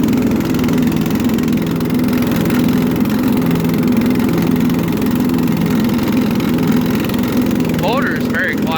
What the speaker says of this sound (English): Motor is very quiet on this thing. I'd say the deck is almost louder than the motor.